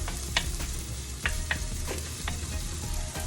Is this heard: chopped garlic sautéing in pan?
yes